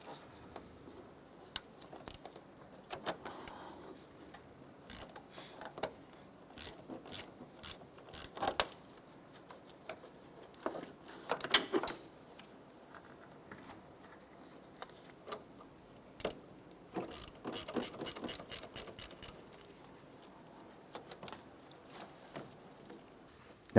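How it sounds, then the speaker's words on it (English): A 10mm socket and ratchet clicks in short irregular bursts while loosening battery terminals on a 2006-2013 Chevrolet Impala, with quick ratcheting runs and pauses between them, fairly close and quiet. "10mm socket and ratchet, we're going to go ahead and loosen and remove our battery terminals"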